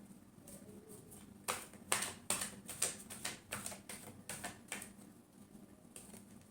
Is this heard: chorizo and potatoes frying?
no